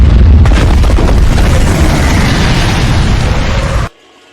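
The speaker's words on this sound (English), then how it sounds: "Her death, however, sets off a citywide explosion, destroying Metropolis." A citywide explosion destroys Metropolis in a Superman video game: a loud, close, roaring blast with rumbling debris that sustains for several seconds and then cuts off abruptly.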